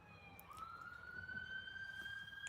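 A faint, distant siren wails, its pitch sliding upward and holding steady, over a low background rumble.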